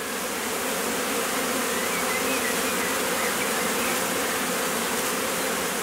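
Honeybees hum steadily at a hive, a dense, loud, continuous buzzing of many insects with no pauses and no voices.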